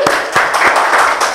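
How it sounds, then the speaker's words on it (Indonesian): Studio audience applause greets a guest on a podcast set, a brief burst of several distinct, fairly close hand claps in quick succession. "Tepuk tangan dulu kita semua."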